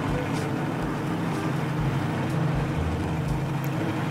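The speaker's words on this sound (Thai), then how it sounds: "อันนี้เป็นรถเครื่องยนต์นะรถน้ำมัน" A petrol-engine vehicle in Farming Simulator 22 hums with a continuous low engine rumble and slight wavering in pitch, steady throughout.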